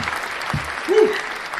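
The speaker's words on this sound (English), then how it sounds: "I want you to stand and cheer for my good friend" An audience claps and cheers for a guest introduced on a talk show, with steady loud clapping and a single whooping voice rising briefly above it near the end.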